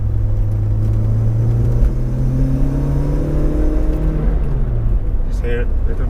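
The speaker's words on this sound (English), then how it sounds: "It's chuntering away, isn't it? There's a bit of exhaust boom." A supercharged 1.8-litre Mk2 VW Golf Rallye pulls up a steep hill in second gear, its engine chuntering with a steady low rumble, rising tones and some exhaust boom, loud and continuous under occasional talk.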